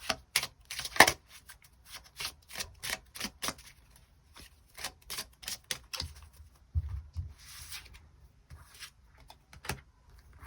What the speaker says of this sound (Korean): 1번 분들 추가 카드로 일별로 월요일부터 일요일까지 어떤 일들이 있을지 추가 카드 뽑아보도록 하겠습니다